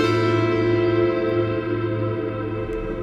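A dense, sustained ambient wash from an Eventide Shimmerverb plugin, layered tones ringing on and on, a long reverberant tail that slowly thins but never fully dies away.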